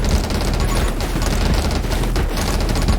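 Rapid gunfire from the video game 20 Minutes Till Dawn, a dense unbroken barrage of loud overlapping shots and impacts filling the whole stretch with no pause.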